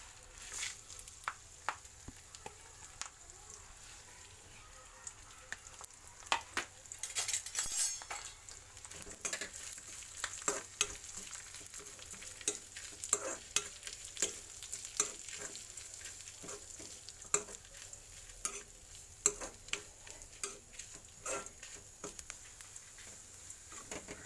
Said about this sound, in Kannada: ಈಗ ಇದೆಲ್ಲ ಹಾಕಿ ನಾನು ಸ್ವಲ್ಪ ಎಣ್ಣೆ ಹಾಕಿದ್ದೇನೆ ಕಾವಲಿಯಲ್ಲಿ. ಇದೆಲ್ಲ ಹುರ್ಕೊಳ್ತೇನೆ.